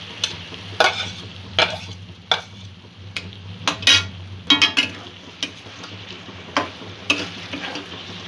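Bombay duck fish cooks in a pan of spiced masala and softened vegetables, a low steady sizzle broken by repeated sharp scrapes and clinks of a spoon stirring against the pan.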